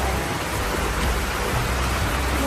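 Heavy rain pours down in a steady, dense hiss that never lets up, loud and all-enveloping.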